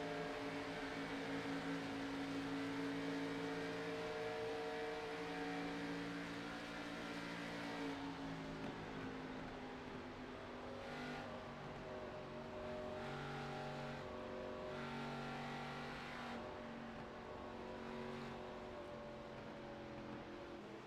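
Onboard an ARCS race car driven by Cody Riggs at Las Vegas Motor Speedway, a steady droning engine holds a high sustained pitch with slight shifts, distant and faint, no talk.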